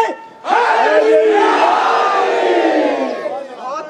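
A large crowd at a religious gathering in Ahmedabad bursts into loud unison chanting of religious slogans, a sustained roar of many voices that rises abruptly and gradually tapers.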